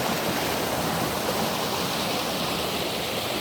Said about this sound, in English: Don't know where all the water comes from, but it's sure flowing a lot.